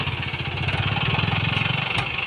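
A Mahindra 575 DI XP tractor engine labors steadily and loudly as it strains to pull a trailer loaded with wood, its low throbbing drone continuous and close.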